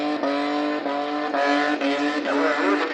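A car doing a burnout at Port Pirie, South Australia, its engine revving hard in sustained surges while the tyres squeal in a loud, continuous screech that rises and falls with the throttle.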